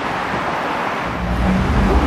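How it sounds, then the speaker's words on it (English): A city bus pulls in to a stop on a busy Leicester street, a rising engine rumble and low mechanical drone swelling over steady roadside traffic and wind noise. "The bus is coming in."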